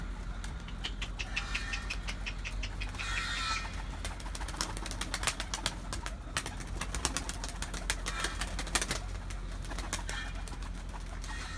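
Pigeons take off with a rapid clatter of flapping wings, the fluttering bursts repeating close by over a steady outdoor background.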